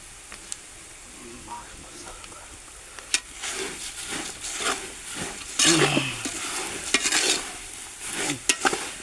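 Poha fries in hot oil for chivda while a spoon stirs and scrapes the pan, with a soft continuous sizzle under irregular clattering strokes.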